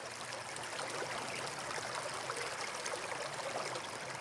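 Water runs in a little brook with a constant, near babbling wash and gentle splashing, steady from start to finish and heard alone.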